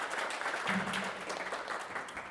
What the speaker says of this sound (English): Little applause for her.